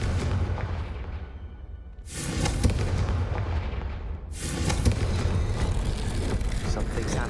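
Two heavy booming blasts of the Confringo fire spell in Hogwarts Legacy, each bursting suddenly and rolling out in a long, dense rumble that fills the space until the next strike.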